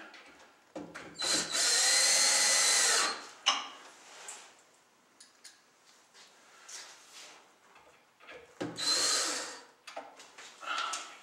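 Power drill driving screws into the top of a Dryerpods unit during assembly, two loud close whirring bursts of a couple of seconds each, separated by quieter handling clicks and rustling.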